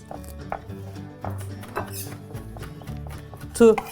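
A knife chops garlic with salt and black pepper on a board, a scatter of irregular close taps beneath steady talk, ending in a sharper knock.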